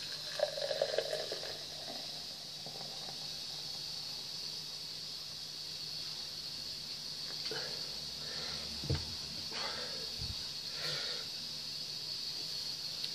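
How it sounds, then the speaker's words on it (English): Homebrew beer, not chilled, is poured vigorously into a glass, giving a faint trickle and fizz over a steady background hiss, with a few soft clinks and splashes toward the end. "I thought I'd do a rigorous pour"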